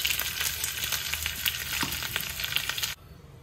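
Tempering of ginger pieces, coriander, asafoetida powder and turmeric fries in hot oil for cucumber chutney, a dense close-up sizzle and crackle that drops off abruptly near the end.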